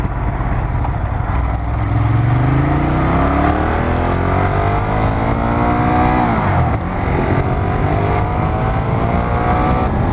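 A Ducati motorcycle engine in sport mode, loud and close, rising through several revving, accelerating sweeps, then dropping and building again with a steady roaring drone.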